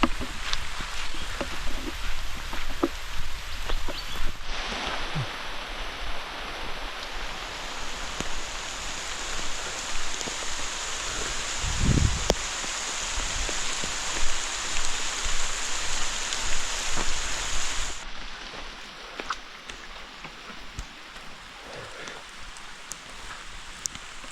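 Steady rain hissing and pattering on surfaces, with scattered drops and a brief thud midway; the downpour softens toward the end.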